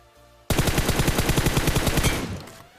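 Rapid automatic gunfire bursts out suddenly in the mobile battle royale game BGMI / PUBG New State, a loud close stream of shots lasting about two seconds before tailing off.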